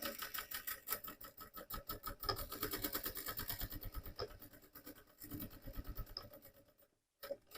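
A sewing machine stitches back and forth across a fabric bag strap, its rapid needle chatter steady and close, pausing briefly before running again in short bursts.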